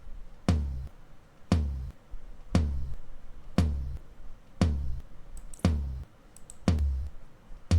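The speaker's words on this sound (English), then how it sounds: "this is how the right tom sounds without any plugins" A dry, unprocessed tom drum struck seven times at a steady, even pace, each hit booming low and decaying quickly, played alone and fairly soft.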